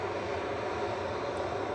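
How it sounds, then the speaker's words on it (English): A Boeing 737-800 jet airliner at Manchester Airport, its engines producing a steady, broad roar heard from a distance at moderate volume, without variation. "Heading off to Palma de Mallorca, this is GTAWU, an 11-year-old 737-800 with Lily's boyfriend on board."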